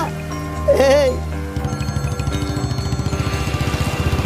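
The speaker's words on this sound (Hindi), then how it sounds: "उन्हीं का फोन आ रहा है। मत उठा।" A brief voice is followed by a telephone ringing in a fast, steady electronic trill that keeps repeating to the end.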